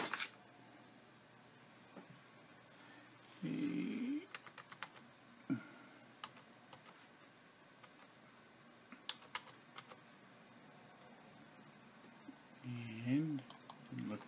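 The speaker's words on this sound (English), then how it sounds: "type in the security key" Someone enters a wireless security key on a computer keyboard. The key clicks are faint and scattered, with a few soft louder thumps and quiet background noise.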